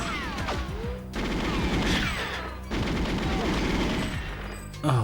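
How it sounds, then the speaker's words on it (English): Video game gunfire in GoldenEye 007 on the N64, a dense continuous barrage of rapid automatic shots in the Water Caverns level, loud and sustained with brief breaks and a final heavy burst. "I'm being shot at now"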